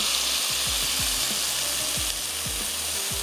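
Boiled onion mixture frying in a pan while cooking lobia qeema, a steady close sizzle with repeated scraping stirs from a spoon, no talking.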